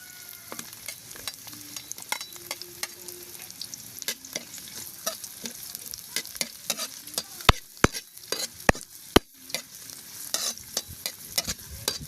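Onion and garlic fry in a pan with a lively, continuous sizzle, broken by frequent sharp clacks and scrapes of a spoon stirring against the metal, close and unaccompanied by speech.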